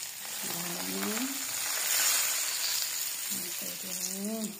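Spices such as chilli, turmeric and onion leaves fry in a pan for gundruk pickle, giving a loud, steady close sizzle while a voice briefly speaks over it.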